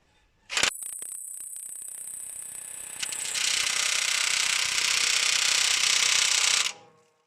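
Makita impact wrench spinning and hammering, a loud continuous buzzing rattle that starts abruptly, intensifies after a few seconds and cuts off after about six seconds.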